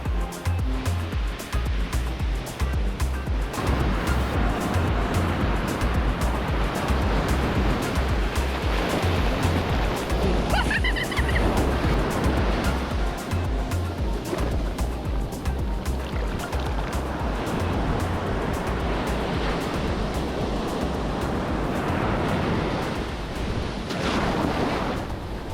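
Ocean waves crashing at Poipu Beach on Kauai, a loud continuous wash of surf with rolling swells breaking close by, buffeted by wind noise on the microphone and with no talking.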